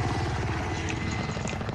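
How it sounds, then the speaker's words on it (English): A helicopter's rotor thumps in a rapid, steady chop with a continuous whirring drone, fairly loud and close overhead on a rooftop in Call of Duty: Modern Warfare, with faint higher tones scattered over it. "I hear like a helicopter up on top of the roof."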